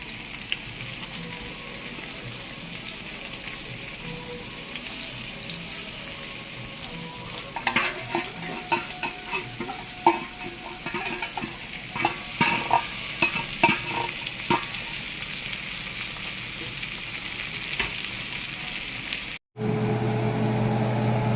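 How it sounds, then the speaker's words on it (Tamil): Masala-marinated fish laid in a row in hot oil, frying with a steady sizzle that grows busier and crackly partway through, with sharp spatters and pops, then a brief break before the frying resumes. "இந்த எண்ணெய் மேலே நம்ம ஊற வச்ச மசாலா போட்டு ஊற வச்ச இந்த மீன்களை எடுத்து வரிசையாக அடுக்க வேண்டும்"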